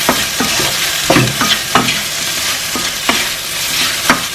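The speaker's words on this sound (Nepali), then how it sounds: "अब यसलाई फेरि चलाउनु।" A spoon stirs okra and potato curry frying in a pan, with a steady loud sizzle and repeated scraping strokes at an irregular rhythm, close up and with no voices.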